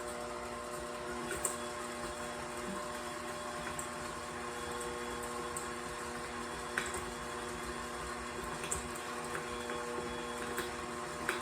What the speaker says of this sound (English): I'm going to put my paddle in my mixer